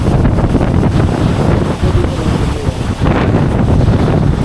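A mountain stream near Nako village in Spiti rushes loudly and continuously, a thick, close roar of flowing water with heavy wind buffeting mixed in and no talking.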